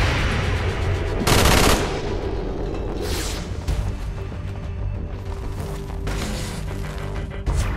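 Sustained gunfire from a firefight in the video game XCOM 2, with dense overlapping rifle bursts, loud and continuous, punctuated by heavier booming blasts.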